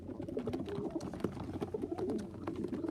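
Stock pigeons in a loft give soft, close, repeated cooing calls, low and throaty, overlapping in a steady murmur with light rustles and clicks mixed in.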